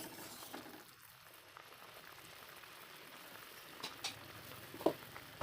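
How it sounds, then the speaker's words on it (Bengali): Sago boils in a pot with a soft, steady bubbling hiss at low volume and a few louder pops toward the end. "এইভাবে করে করে আমি সিদ্ধ করে নিচ্ছি"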